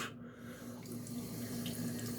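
Cool tap water runs steadily into a sink, rinsing a double edge safety razor during cleaning, a faint, continuous splash and trickle.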